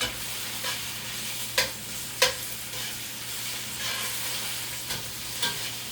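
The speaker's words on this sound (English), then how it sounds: "So let me grab a teaspoon of my garlic paste and throw it in there." A teaspoon of garlic paste sautéing in a pan, a soft continuous sizzle with a low steady hum underneath, broken by a few sharp scraping clicks as it is stirred.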